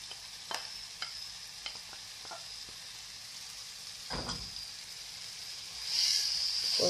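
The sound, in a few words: peppers and onion frying in a pan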